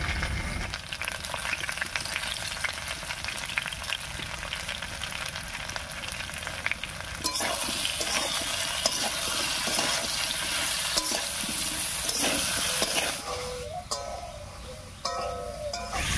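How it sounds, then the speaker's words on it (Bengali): Rui fish curry seasoned with salt and turmeric sizzles steadily while being stirred in the pan, with a spoon scraping and clinking through a continuous close frying hiss. "লবণ আর হলুদটা দিয়ে একটু নাড়িয়ে নিয়েছি"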